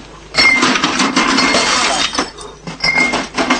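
Glass breaks and shatters in a loud burst of crashing, tinkling shards, followed by a short pause and a second clattering scatter of broken glass, heard up close with no talk.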